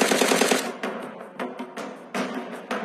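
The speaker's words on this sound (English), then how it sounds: "consider switching to Slade's secondary weapon, a high fire rate SMG" Rapid bursts of high fire rate SMG gunfire from Slade's secondary weapon in the shooter game Shadowgun War Games, several sharp, loud volleys with brief gaps between them.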